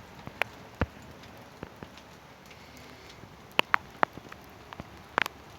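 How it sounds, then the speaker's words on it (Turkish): Sparse raindrops and taps land at irregular intervals on succulent pots, quiet and scattered, with a faint steady hiss underneath. "Bakın yağmur başladı."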